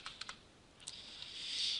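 Light typing on a computer keyboard produces a few quick, faint key clicks over a soft background hiss, close to the microphone, with no talking.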